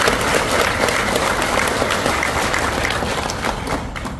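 Dense applause from an audience at an Indonesian political debate, many hands clapping steadily and loudly for about four seconds, with a faint crowd murmur underneath and no speech.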